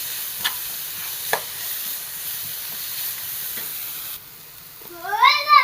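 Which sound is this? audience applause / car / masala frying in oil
masala frying in oil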